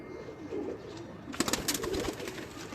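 A flock of Jogi pigeons in a breeder's loft keeps up a low rolling coo nearby, joined midway by a burst of sharp rustling and flapping.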